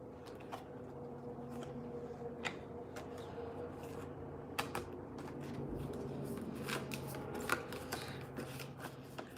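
Tarot spirit cards shuffled close by in a quiet room, a soft continuous riffling broken by sharp snapping flicks and taps at irregular intervals.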